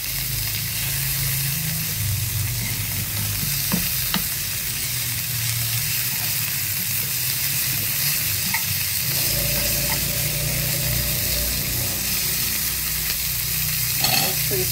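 Pork sizzles steadily in a hot frying pan, a continuous broadband crackle with occasional utensil stirring and scraping, close and moderately loud, with no talking.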